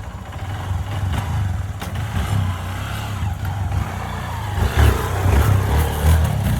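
A Honda CRF150L motorcycle engine running close by, its steady low idle throbbing along with brief swells where the revs rise, growing louder toward the end.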